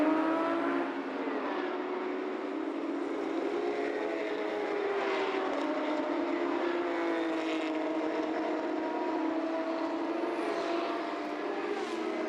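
A Porsche race car at Interlagos during a 500 km endurance race heads back onto the track, its engine droning loud and steady with rising and falling tones over distant track ambience.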